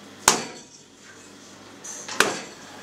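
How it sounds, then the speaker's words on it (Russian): Sausage mince for Moscow-style dry-cured sausage is beaten to drive out air bubbles, heard as two sharp, close slapping thuds about two seconds apart over a quiet room. "Перед тем, как фарш помещать в колбасный шприц, его надо вот так вот отбить, чтобы удалить из него все пузырьки воздуха."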